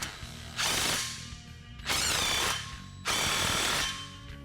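A ratchet tool clicks rapidly while tightening the exhaust clamps on a stainless MagnaFlow cat-back exhaust under a four-door Jeep Wrangler. There are three loud, sustained bursts of ratcheting with short pauses between them, heard close and without talk.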